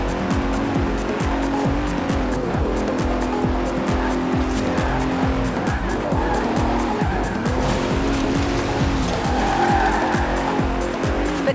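A Bentley Continental with all-wheel drive and carbon fibre body panels races in Forza Horizon 4. Its engine roars steadily and loudly throughout, with repeated tire squeals and skids as it corners, and no one speaks.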